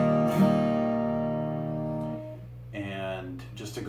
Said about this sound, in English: so it sounds like this when you strum an open chord